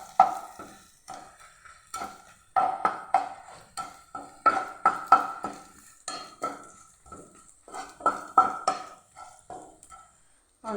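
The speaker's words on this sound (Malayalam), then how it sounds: "അത് നമുക്ക് ഒരു സ്പൂണെടുത്ത് എണ്ണയിലേക്ക് ഇടാം" A spoonful of an ingredient stirred through hot oil in a pan, with crisp spoon clinks and scrapes in a steady, uneven rhythm over a light sizzle, close and fairly loud.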